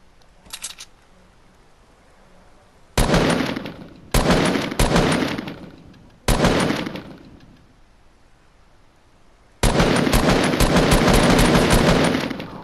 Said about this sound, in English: What were those shots?